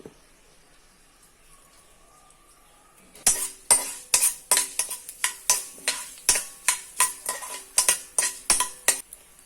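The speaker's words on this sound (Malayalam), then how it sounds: "കടുക് പൊട്ടട്ടെ. കടുക് പൊട്ടി തുടങ്ങുമ്പോൾ" A metal utensil strikes a pan in a quick, regular series of sharp clinks over faint sizzling, close and loud after a quiet start, with no speech.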